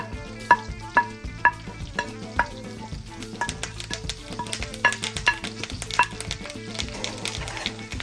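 Fresh herbs stirred into melted butter in a pan, with a soft crackling fry under repeated clinks and scrapes of a utensil against the pan, plus a low steady hum.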